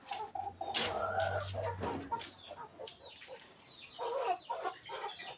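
Chickens cluck and squawk close by in short bursts, with some scuffling and a faint low hum underneath.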